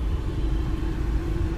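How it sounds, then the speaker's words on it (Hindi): A car creeping into a parking spot while learning to park, its engine a steady low rumble close by with no voices over it. "और गाड़ी जो है हमारी इजीली अपनी जगह पे, देखिए देखिए देखिए ध्यान से आ गई है।"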